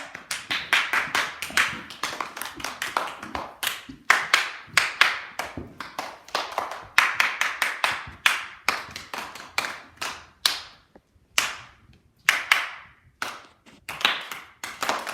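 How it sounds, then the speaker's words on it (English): A classroom of students echoes a teacher's clapped rhythms, short bursts of hand claps in patterned groups separated by brief pauses, close and crisp with no talking. "leave your books and clap after me"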